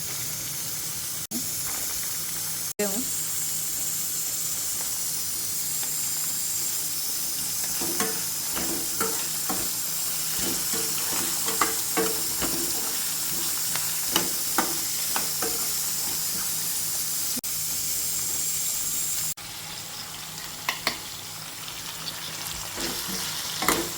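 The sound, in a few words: potato, ginger and green chilies frying in a pan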